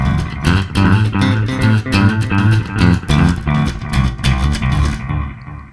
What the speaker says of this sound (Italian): così per esempio come mi piace usare il delay